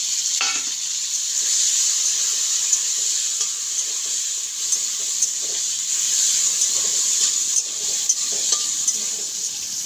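Chopped onion and tomato sizzle steadily in a hot pan of oil for a Bengali potato and bata fish curry, a continuous bright frying hiss with occasional stirring scrapes, close and fairly loud.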